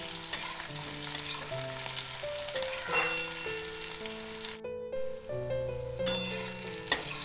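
Onion, tomato and potato pieces fry together in a pan for a chicken curry, giving a soft, steady sizzle that sits beneath louder melodic background music.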